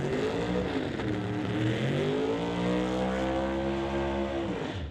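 Drag racing car doing a burnout at a divisional drag race at Mission Raceway, a loud, sustained engine roar whose pitch sweeps upward and then holds high before easing off.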